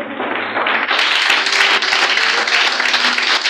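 A church service audience bursts into sustained applause and acclaim, with dense, steady clapping filling the hall for the whole stretch, loud and close, with a few cheering voices mixed in.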